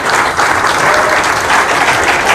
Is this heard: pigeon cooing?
no